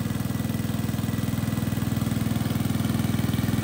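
Small engine of a machine used to drain a fish pond after harvest, a close, steady throbbing idle with a rapid regular pulse and no change in pace.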